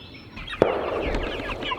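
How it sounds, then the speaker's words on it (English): Chickens on a farm cluck nearby in a short burst, with a sharp call standing out among softer, overlapping clucks. "Chickens are never patient with me."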